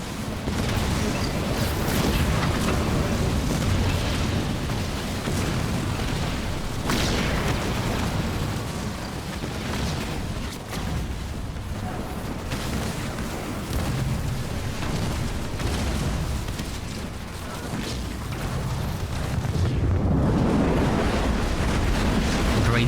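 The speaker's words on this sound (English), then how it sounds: "Bombas getting dropped from the sky as well." Bombs falling from the sky in a Halo Wars 2 battle, heavy rumbling blasts and booms rolling continuously through dense combat noise, loud and close.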